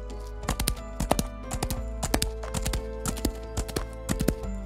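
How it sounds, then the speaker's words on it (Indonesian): Horse hoofbeats as an audiobook sound effect, a steady clip-clop of hooves in close, even repeated strikes over a low constant hum, with no voices. "Tapi sorenya Milady terkejut mendengar derap kaki kuda"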